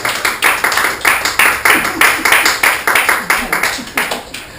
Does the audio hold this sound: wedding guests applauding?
yes